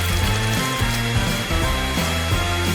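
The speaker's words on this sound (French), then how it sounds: "j'ai besoin d'un sèche-cheveux pour faire fondre la peinture des Skittles." A hair dryer blows steadily up close while melting Skittles candy paint on a cake, its whirring motor tone shifting slightly in pitch as it is moved.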